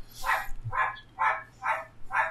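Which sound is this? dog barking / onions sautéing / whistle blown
dog barking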